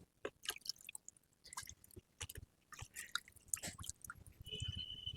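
An adenium plant being lowered into water makes soft wet squishes, splashes and drips, irregular and close, with a faint steady hiss near the end.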